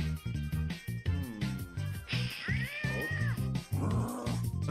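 A cartoon cat in a Brawl Stars animation lets out several loud, drawn-out meows and caterwauling yowls, rising and falling in pitch, heard up close over a steady beat of background music.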